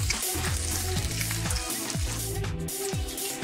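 Bacon frying in a pan, a loud, dense close sizzle with crackling spatter and faint rhythmic scraping throughout.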